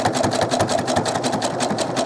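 A sewing machine stitches doll clothes, its needle running in a steady rapid mechanical rhythm, close and fairly loud, alone without talk.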